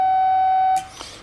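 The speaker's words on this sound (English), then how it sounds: "I get these beeps, and this will go screaming fast" A single long, steady electronic beep tone from a 1930s Speed-X bug Morse telegraph key, held for most of a second, then cut off, followed by a faint tap.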